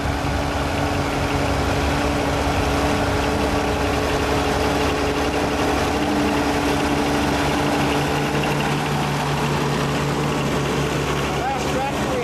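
An antique 1956 Oliver Super 88 tractor engine idles and rumbles steadily nearby, a constant low mechanical drone with voices talking over it throughout.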